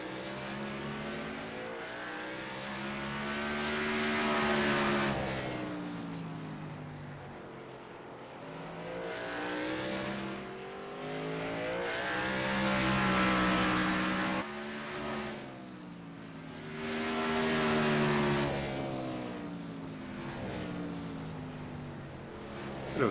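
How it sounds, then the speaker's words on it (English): Race cars lap a track during qualifying, their engines rising and falling as each one roars past, a droning, continuous pass-by sound with swelling peaks a few seconds apart. "A few late arrivals coming in here while they're qualifying."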